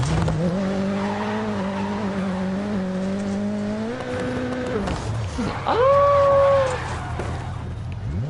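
Rally car driven in Dirt Rally 2.0, engine droning steadily then rising and falling through gear changes, followed by a short loud tire squeal near the end, with a voice talking over it.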